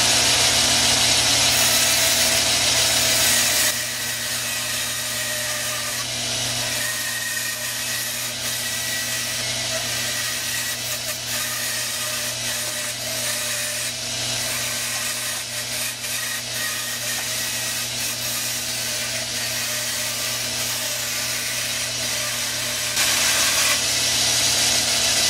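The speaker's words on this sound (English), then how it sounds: "Now we're over here at the bandsaw, and we want to just kind of cut this roughly out to a nice circle so that it'll fit on the lathe" A bandsaw cuts a block of cedar wood into a rough circle, a steady whirring, rasping drone running unbroken throughout, louder at the start and end as the blade bites.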